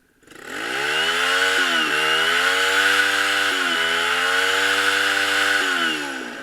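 A small engine held near full throttle at about 5,400 RPM, a steady loud buzzing drone that swells up quickly, holds with slight dips in pitch, then eases off at the end.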